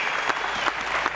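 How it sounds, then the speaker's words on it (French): Studio audience on a French TV variety show clapping for the musicians, a dense, steady burst of applause throughout. "applaudissements pour nos camarades"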